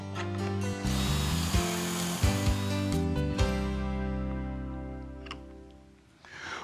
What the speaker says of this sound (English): Now I'm going to drill two pocket holes in each end of all the rails.